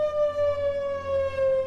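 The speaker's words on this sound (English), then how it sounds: "not only can our dispatch center set off the sirens" A tornado-warning civil defense siren holds a steady, loud wailing tone with little variation throughout, sounding from a distance with no other sounds.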